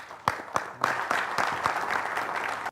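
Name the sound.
audience applause welcoming a poet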